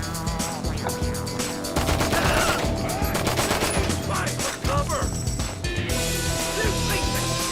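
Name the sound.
gunfire, from video game GTA 5 Online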